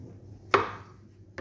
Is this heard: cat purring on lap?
no